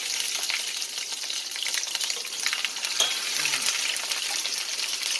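Crab cakes fry in a hot pan with a steady, dense sizzle and crackle throughout, fairly loud and close, with a brief soft clink near the middle and no talking.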